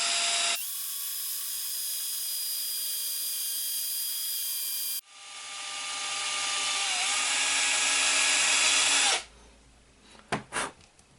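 A power drill whines at high speed in two long bursts, pitch shifting as it bites while driving screws, then stops, followed by a few short clicks and rattles.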